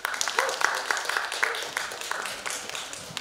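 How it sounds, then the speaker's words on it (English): An audience at a literary festival panel session claps for the panelists, a dense, continuous patter of applause from a crowd in a hall. "please give a big round of applause for our panelists."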